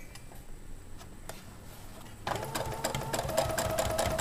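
Sewing machine top stitching around contrast pant pieces: faint ticking and soft handling at first, then the machine starts up and runs steadily and louder to the end.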